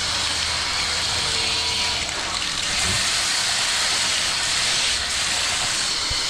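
A steady, forceful hiss of tap water gushing under strong water pressure, loud and continuous throughout with no voices.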